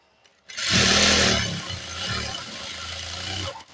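An overlock sewing machine whirs in a fast continuous run of a few seconds while stitching the sleeve seam of a nurse's uniform top, loud and close with no voices.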